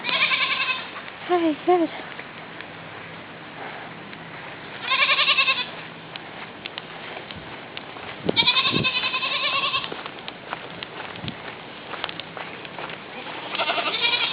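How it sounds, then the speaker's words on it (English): A goat on a neighbours' farm bleating several times in drawn-out wavering cries, at moderate distance, with people talking briefly between the calls. "Here's the goat."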